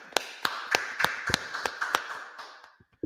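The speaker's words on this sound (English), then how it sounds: "clap it up, clap it up" Sharp, evenly spaced hand claps ring out about three times a second, close and loud, from a gathering at an Israelite School of Universal Practical Knowledge session, then trail off near the end.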